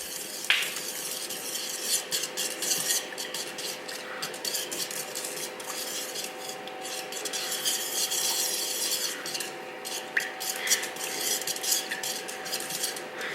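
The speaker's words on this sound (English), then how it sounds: "You can see as I'm stirring that most of the butter is actually getting incorporated" Butter and brown sugar being stirred in a pan, a continuous rhythmic scraping and rubbing of a utensil against the metal with occasional clinks, close and moderately quiet.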